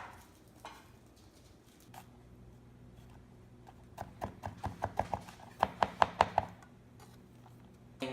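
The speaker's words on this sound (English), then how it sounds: "we're just going to start by chopping up" A knife chops a single garlic clove on a cutting board, a few scattered taps at first and then a quickening run of about a dozen crisp, close knocks.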